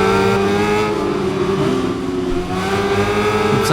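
A BMW S1000RR superbike roars at full throttle in the racing game Ride 5, a loud, steady high-revving engine note holding near-constant pitch with a slight dip and recovery, with no talking.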